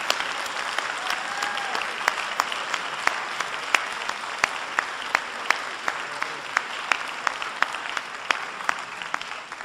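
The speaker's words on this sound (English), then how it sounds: "And I hope you will recognize them with a round of applause for what they have done." An audience at a forum on affirmative action and the Supreme Court gives sustained applause: a full, even roar of many hands with sharp individual claps standing out throughout, loud and close.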